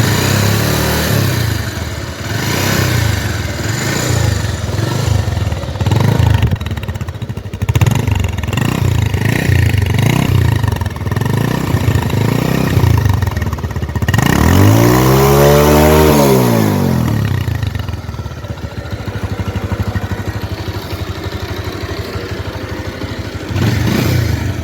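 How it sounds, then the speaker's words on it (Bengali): A second-hand Bajaj Pulsar motorcycle with about 25,000 km on it idles with a loud, close, steady engine rumble, then revs up and down several times, including one long rising and falling rev in the middle. "ইঞ্জিনের সাউন্ড কেমন সেটা শুনুন"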